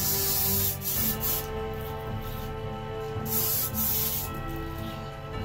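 An airbrush sprays khaki model paint in a steady continuous hiss, close and fairly loud, with a few brief bursts and pauses as the trigger is worked, while a quiet musical bed runs beneath.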